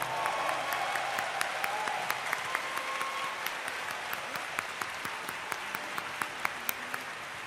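Sustained applause from a large audience for the performers at a Korean Liberation Day ceremony marking the 80th anniversary, steady dense clapping with sharper individual claps standing out, loud and continuous throughout.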